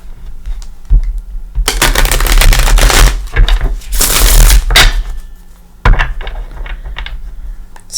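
A rapid, dense riffling of tarot cards flutters loudly in a couple of long bursts, with sharp taps and knocks between them.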